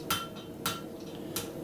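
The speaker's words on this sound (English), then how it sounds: "This is a heavy rounding hammer." A heavy rounding hammer strikes hot steel while pickup tongs are forged at the anvil, three sharp, fairly quiet metallic blows spaced about half a second apart.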